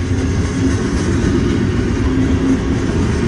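Freight train of old gondola cars rolling past close by, a steady loud low rumble with rail clatter running throughout, no talking.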